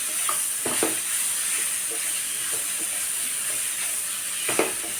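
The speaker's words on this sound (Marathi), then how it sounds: "हा केलेला किस टाकायचा आहे छान परतून घ्यायचा आहे" Grated raw mango with red chilli powder sautés in a pan for a chutney, a steady hiss of frying broken by a few soft scrapes and knocks of a stirring spoon.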